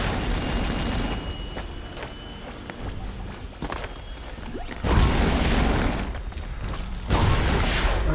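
Gunfire in the video game Avatar Star, bursts of rapid shots and thuds over a busy game background, growing louder and denser partway through.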